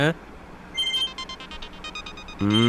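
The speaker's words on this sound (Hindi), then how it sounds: "अरे देखना, तेरे डैड का कॉल है, बात करो ना।" A phone rings with an incoming call: a repeating electronic ringtone of short tonal pulses, heard clearly between bursts of a person talking at the start and end.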